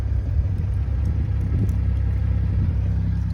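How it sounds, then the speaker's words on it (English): A BMW G42 M240i with its muffler deleted idles once warmed up, a steady low rumble that stays even and fairly loud with no revving and no voices. "So when it warms up, it's actually pretty quiet, just sitting at idle."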